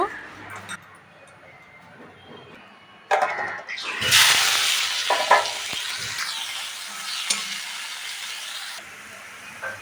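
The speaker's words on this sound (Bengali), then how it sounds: "প্রথম আমি পেঁয়াজটা কড়ার মধ্যে দিয়ে দেব।" Grated onion goes into hot oil in a wok and starts a loud, steady sizzle partway through, with stirring scrapes and a voice talking over the frying.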